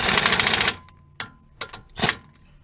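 A power tool, likely an impact wrench, runs a single rattling burst of under a second to tighten a size 17 bolt on a Mazdaspeed 3 during handling upgrades, followed by a few light metallic clicks.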